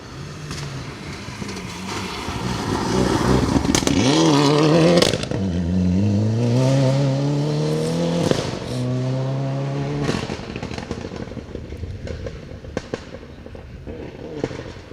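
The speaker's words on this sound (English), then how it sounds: "Unmistakable tones of the Mitsubishi Evolution 9 then, of George Scott" A Mitsubishi Evolution 9 rally car engine revs hard and climbs through gears on a rally stage, with sharp popping backfires and crackles, loud and close, then fading off into the distance.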